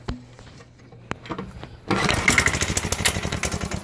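A vintage Sears 3000-watt generator engine with a freshly rebuilt carburetor cranks and catches on a chilly day, a few pull-start sounds followed by the engine roaring to life and running loudly and steadily, close by.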